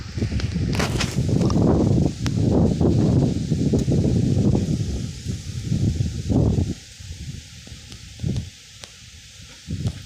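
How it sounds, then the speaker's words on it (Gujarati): Gusts of wind thrash and rustle through leaves in loud bursts, easing off toward the end into quieter, scattered rustling. "ઓસિંતાનો પવન ઉડ્ડો જોઈ લો તમે"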